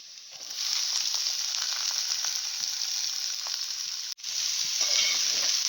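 Ivy gourd (dondakaya) drops into hot oil already holding fried green chillies and onions, bursting into a loud, steady sizzle that holds close-up, briefly dips for an instant, then resumes just as strongly.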